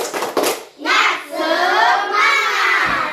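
A school class performs a rhythmic clapping chant, a short burst of hand claps followed by children shouting the chant loudly together in unison.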